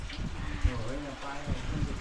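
Monsoon rain falls steadily in the Konkan countryside, a soft continuous patter, while people talk over it.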